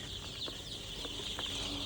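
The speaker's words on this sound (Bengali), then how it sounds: "তো আলহামদুলিল্লাহ মুরগিগুলো ভালোই তত্তাজা আছে" Chickens on a rooftop poultry farm, birds at brooding stage, cluck and squawk faintly in a few short scattered calls over a steady hiss of background noise.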